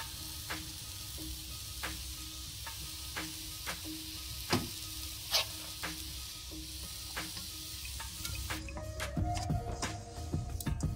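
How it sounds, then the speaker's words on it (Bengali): A sweet milk mixture with dried khoa is stirred in a sizzling frying pan for topara pak, with steady frying hiss and regular spoon scrapes and clicks against the pan. Louder clatter builds near the end. "এবার এটা ভালো করে নেড়ে চেড়ে মিক্স করে নেব।"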